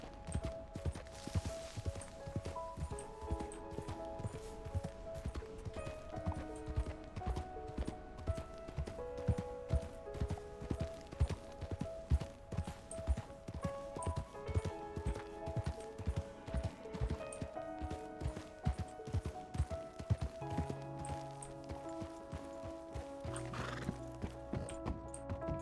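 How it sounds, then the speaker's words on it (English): Horses in the RedM video game: steady clip-clopping hooves run through the whole passage, with repeated whinnies and neighs from several animals close by, loud and busy throughout. "Oh, there's horses up here."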